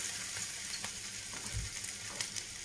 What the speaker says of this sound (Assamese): মই সৰিয়হৰ তেলতে ভাজিছোঁ